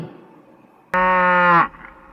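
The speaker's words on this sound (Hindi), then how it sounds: "Cow, गाय." One deep, close cow moo, steady and loud for under a second, ending with a short falling tail.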